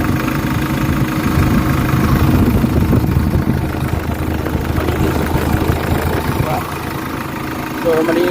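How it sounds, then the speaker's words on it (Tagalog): A Hyundai H100 diesel engine idles steadily with a constant mid-to-low rumble and clatter, heard close up and unchanging throughout, after being flushed with diesel fuel to remove oil sludge. "So ngayon naka-idle pa lang tayo. So tingnan natin yung andar ng engine."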